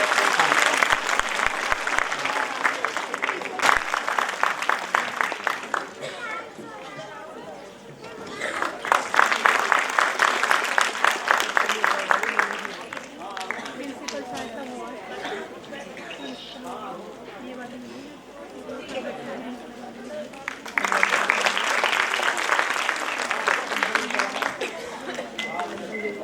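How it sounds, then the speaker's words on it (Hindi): An audience at a school annual function applauds children coming onto the stage, in three loud bursts of clapping separated by stretches of a speaker's voice and murmuring. "तो जोरदार तालियों से स्वागत कीजिए छोटे छोटे बच्चों का।"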